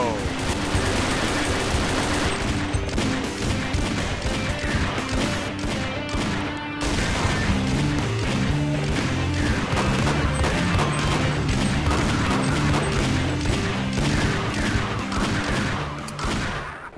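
Dense, continuous gunfire in the Echoes mod, a relentless wall of shots, blasts and crashes without letup, loud and close, with voices mixed into the din.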